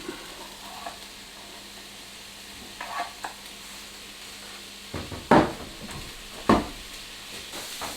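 Capsicums tossed into a pan where vegan sausages are frying, a low sizzle running throughout with a few clatters near the end as the pieces go in.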